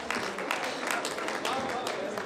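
An audience at a poetry recital gives a short burst of steady applause, a dense patter of many hands clapping close by, with a voice speaking over it.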